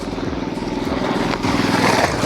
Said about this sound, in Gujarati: કેમ કે ઓ આવે છે ટ્રેક્ટર